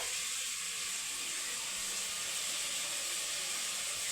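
Tea simmering in a pot on a stove gives a steady, faint, continuous hiss and bubbling with no talk.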